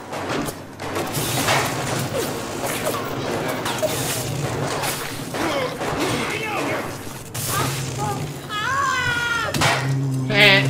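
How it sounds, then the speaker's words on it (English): A cat meows amid the noisy soundscape of the video game Bioshock, with gunfire, crashes and mechanical clatter filling the scene, and a short, clear series of mews rising near the end. "That cat."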